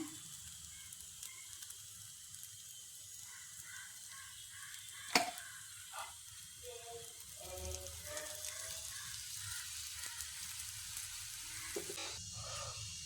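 Kerala-style snacks frying in a small amount of oil, a steady soft sizzle running throughout with a few sharp clicks and light utensil taps against the pan.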